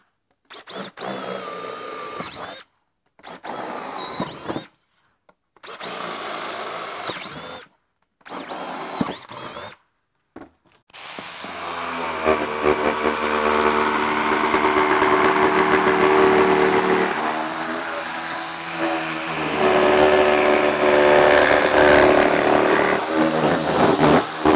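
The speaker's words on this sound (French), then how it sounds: "Et à la scie sauteuse, on va découper cette partie-là." A jigsaw cuts wood for a Warré beehive, first in several short bursts separated by pauses, then in a long continuous loud buzzing run.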